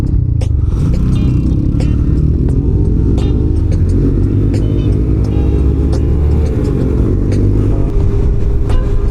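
A loud motorcycle engine drones continuously while riding, with heavy wind rumble throughout and no breaks.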